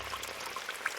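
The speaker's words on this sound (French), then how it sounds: "Je recharge de l'eau pour faire de la lessive dans mon petit baquet là." Rainwater running from a gutter into a small washtub outdoors, a steady close pouring and splashing with a few brighter drips over the brief stretch.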